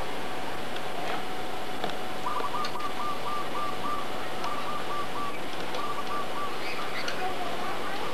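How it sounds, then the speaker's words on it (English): Birds at a playground in Kauai whistle and call in short repeated phrases, faint and somewhat distant over steady outdoor background noise. "You hear the birds."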